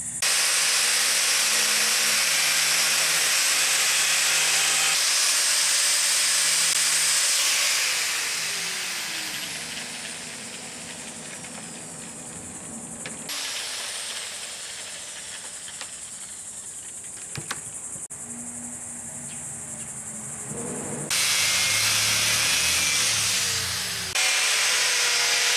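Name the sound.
side grinder with thin blade cutting fiberglass surfboard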